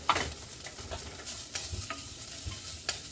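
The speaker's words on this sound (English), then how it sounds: "Saute it a little bit, a couple minutes, get it nice and hot." Chicken and soy sauté for fajitas in a hot pan over a high flame, giving a steady close sizzle broken by soft clicks and scrapes from stirring.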